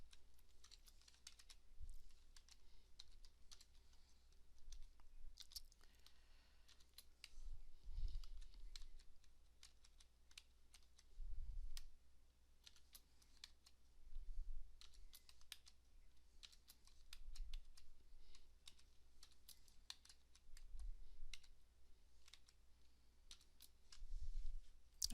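Quiet, rapid clicking of a computer keyboard being typed on to comment out lines of code, irregular bursts of keystrokes with short pauses over about twenty-five seconds, with no talking.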